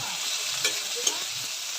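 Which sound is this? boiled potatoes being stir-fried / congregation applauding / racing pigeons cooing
boiled potatoes being stir-fried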